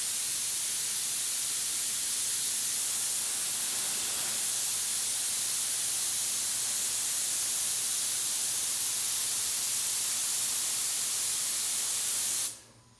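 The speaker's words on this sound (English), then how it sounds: "this is a really good compressor. This compressor is probably at least well over 35 years old." An old Sears Craftsman air compressor over 35 years old runs with a loud, steady hissing roar that cuts off abruptly at the end; no voices.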